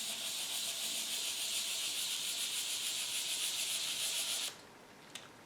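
Wet-and-dry paper rubs in small circles over a guitar body, a steady close scratchy hiss that stops abruptly near the end, followed by a faint tap.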